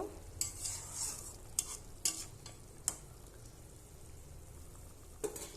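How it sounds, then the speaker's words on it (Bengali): A spoon gently stirs a simmering pot of small fish curry cooked with mango, a faint bubbling sizzle under several sharp scraping clinks spaced irregularly across the stretch. "এবার একটু হালকা করে নেড়ে দেব।"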